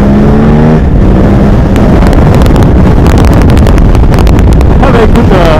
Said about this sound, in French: il y a beaucoup de vent, hein.